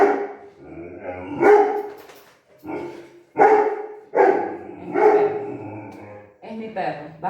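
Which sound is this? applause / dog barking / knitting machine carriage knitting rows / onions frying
dog barking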